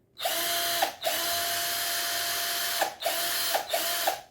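A Deko 20V cordless drill runs in forward as a steady, close, high-pitched motor whine in several bursts, with a long run first and then quick short pulses separated by brief stops.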